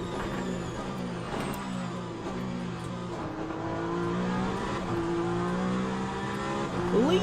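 A Peugeot 9X8 hypercar in the Le Mans Ultimate racing game, at Imola, drones with a steady layered engine note and shifting pitch. A faint rising whine and tyre squeal come in near the end.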